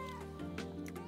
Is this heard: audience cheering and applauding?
no